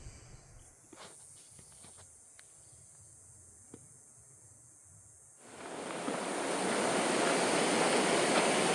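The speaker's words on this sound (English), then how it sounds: "Glad there's a creek here." Creek water rushing in the Grand Canyon on a hot day, a broad steady hiss of flowing water that swells in loudly and stays constant after a quieter outdoor stretch with faint ticks.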